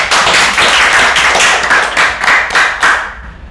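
A group clapping hands together in steady, energetic bursts at close range, the claps dense and loud for a few seconds before thinning out at the end.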